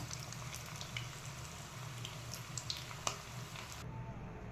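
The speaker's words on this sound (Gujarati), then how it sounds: "હું છે ને બધા જ મૂઠિયા આવી રીતે તળી લઉં છું" Muthiya dumplings for undhiyu deep-fry in oil, a quiet continuous sizzle with occasional faint bubbling pops and clicks, heard alone.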